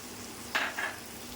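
Spice paste with chopped tomato frying in oil in a pan for a prawn and taro stolon dish, giving a short moderate sizzle and stir with two quick bursts over a faint steady hiss, with no voices.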